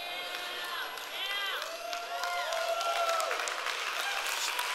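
Audience in the front row of a church gathering cheering and whooping with applause beneath, a continuous lively crowd roar with rising and falling vocal shouts throughout.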